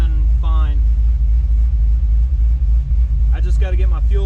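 A Chevy 6.0 V8 swapped into an OBS Ford truck idles warm with a steady low rumble close by, while people talk over it at the start and near the end.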